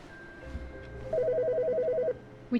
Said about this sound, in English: Where's the phone ringing? It's new.